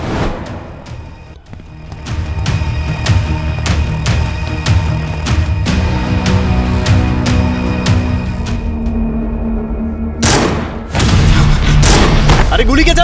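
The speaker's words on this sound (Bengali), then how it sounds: "আরে গুলি কে চালাচ্ছে?" A rapid series of sharp gunshots rings out in a tense crime-drama scene at a church, evenly spaced and loud, ending in a heavier, denser burst of fire.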